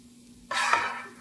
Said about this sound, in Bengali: ইলিশ মাছ ভাজা